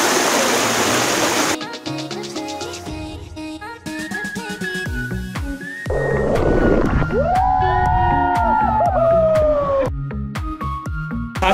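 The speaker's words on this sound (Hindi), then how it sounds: "और ये रहा हुआ वाटरफॉल।" The Zenith waterfall at KP Falls in Khopoli rushes as a steady broadband roar, heard near and fairly loud, with other intermittent sounds layered over it and no talking.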